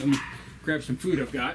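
A new puppy barks and yips in crate training in a home room, with short sharp calls behind steady talk.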